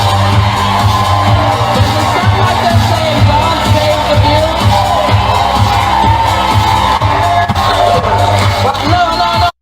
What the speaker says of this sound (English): Even you saw the crowds clap, clap, clap, clap, clap, clap. Because the drum beat is so dominant.